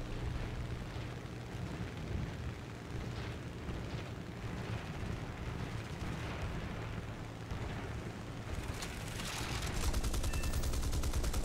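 Aircraft cannon fire in the video game War Thunder, a dense continuous roar of rapid bursts and rumbling engine noise, intensifying into sharper rattling fire near the end.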